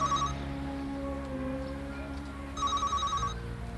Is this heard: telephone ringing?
yes